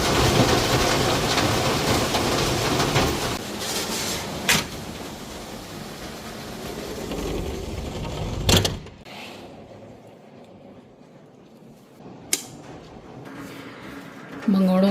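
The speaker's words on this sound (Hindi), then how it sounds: "क्या जोरदार बारिश हो रही है" Heavy rain pours steadily outside a home, a dense close roar with a few sharp cracks of thunder or bangs, easing later in the clip while someone talks over it.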